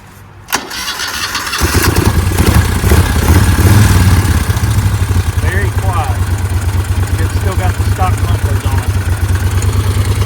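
A 1000 cc motorcycle with a five-speed gearbox starts up close by and settles into a loud, steady, throbbing idle, while people talk faintly in the background.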